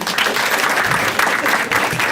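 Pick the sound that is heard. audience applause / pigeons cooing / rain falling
audience applause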